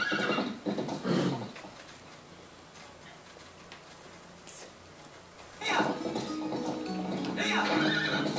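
A horse in Zelda Twilight Princess whinnies and clip-clops at a gallop in bursts, with quieter game ambience between and a louder stretch near the end.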